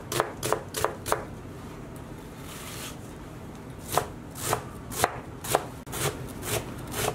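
A knife finely dicing a brown onion on a board, bursts of quick, crisp chops separated by short pauses, close and clear with no talking.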